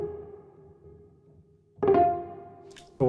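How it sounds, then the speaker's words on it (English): A piano sample captured on a tape machine: a fading note with a dull, slightly muffled tone, then a louder struck chord that rings and decays, with another attack just at the end. "but is a sample captured on some kind of tape machine."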